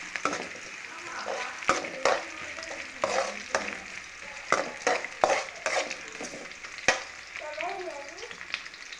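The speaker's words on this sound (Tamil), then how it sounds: "இப்போ மசாலா தேங்காய், தக்காளி, வெங்காயம், பூண்டு, இஞ்சி, கொத்தமல்லி எல்லாம் எண்ணெயில் வதக்கிட்டு" Coconut, tomato, onion, garlic, ginger and coriander sautéing in hot oil for an egg curry: a soft, close sizzle broken by irregular stirring scrapes and clinks of a spoon against the pan, with a brief voice near the end.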